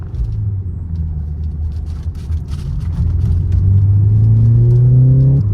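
A BMW G20 rumbles at idle, then pulls away as the light turns green, its engine note rising steadily in pitch and loudness while the car accelerates through a right turn.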